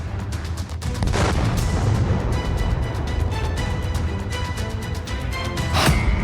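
A dense, continuous roar of booming blasts and crackling gunfire rumbles throughout, loud and heavy, with sharper bangs near the start and end. SEBEX-2 explosive blast.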